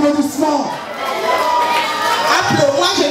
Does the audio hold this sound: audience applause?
yes